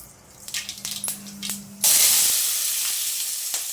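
A sudden loud hiss bursts out as mustard seeds hit hot oil and keep sizzling steadily after some light clinks and scraping.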